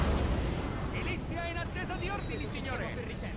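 Cannon artillery fire in Napoleon Total War, a steady rumbling barrage of booms continuing throughout beneath battle noise, with a voice speaking over it.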